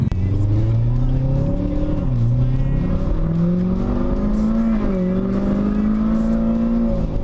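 A car engine with a stage 2 cam revs and settles in a steady, lopey rumble, its pitch rising and dipping, loud and close throughout with no talking.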